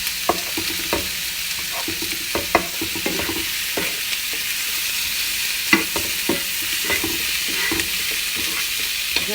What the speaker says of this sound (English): We're going to cook the tomatoes a little bit.